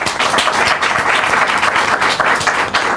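Studio audience applause on a Spanish comedy show following a section intro, loud dense clapping from a full crowd, continuous and even across the whole stretch.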